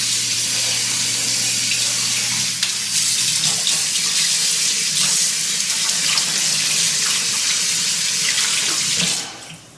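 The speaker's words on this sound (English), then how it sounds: "Now, we're gonna be rinsing the dill." Tap water runs steadily into a kitchen sink as fresh dill is rinsed beneath the stream, a continuous close splashing hiss that stops abruptly near the end.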